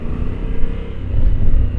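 A 2025 Honda Africa Twin motorcycle with its stock exhaust accelerates, giving a steady low engine rumble that swells louder toward the end, close and continuous.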